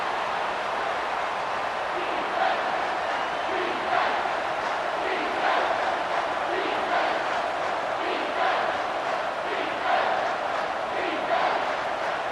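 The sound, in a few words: stadium crowd cheering in video game College Football 25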